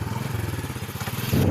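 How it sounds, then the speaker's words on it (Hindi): A motorbike ridden through a village with two people aboard, its engine putting out a steady, close mid-pitched pulsing drone that swells louder near the end. "सिकंदर भाई जो है बाइक चला रहे हैं"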